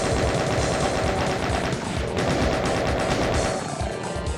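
A chaingunner enemy in Doom 2 fires its chain gun in a loud, rapid, continuous burst of shots. The gunfire stays dense and sustained across the whole stretch, with no speech.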